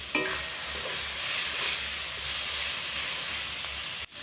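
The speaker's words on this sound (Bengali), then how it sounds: "মোটামুটিভাবে মশলাটা কষানো প্রায় হয়েই এসেছে।" Masala and potatoes sautéing in a pan for a fish curry, a steady broadband sizzle and stirring hiss that holds evenly near and loud throughout, with no talking.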